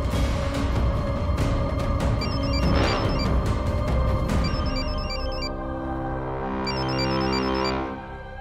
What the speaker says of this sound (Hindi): कोई फोन बज रहा है।